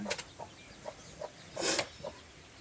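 Chickens cluck softly in a village yard, a series of short repeated calls with one louder squawk in the middle, moderately distant and faint.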